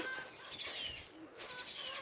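Thin, high chirping calls of young myna birds, a few quick repeated cheeps, fairly faint and brief.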